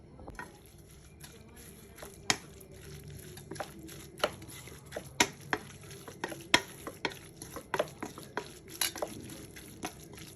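Green chillies, coriander leaves and salt being stirred together in a bowl, with a spoon or hand scraping and knocking in a steady series of sharp, close taps over soft crinkling movement.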